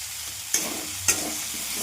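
Fried potatoes tossed with turmeric and poppy seed paste in a pan for aloo posto, a continuous close sizzle broken by two sharp spatula scrapes.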